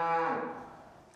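A single cow's moo, a long low lowing call that starts strong and slowly fades away.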